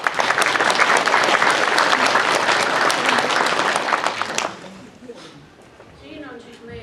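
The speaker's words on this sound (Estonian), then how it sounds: "Tervitame teid aplausiga." An audience at a dance event bursts into loud, dense applause that holds steady for about four and a half seconds, then cuts off abruptly, leaving quiet room tone and faint voices.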